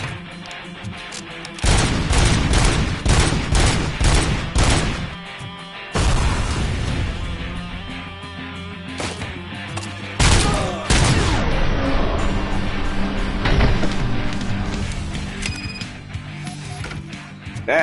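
A submachine gun fires in the RoboCop: Rogue City video game, with loud rapid bursts of shots mixed with mechanical clanks and game sound effects over a steady background score.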